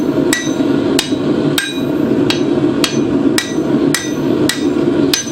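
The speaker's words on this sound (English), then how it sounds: "I'm going to hang it slightly off the anvil, strike back towards me." A blacksmith's hammer strikes a bar held slightly off the edge of an anvil while forging down a point, giving about nine sharp ringing blows in a steady rhythm, loud and close.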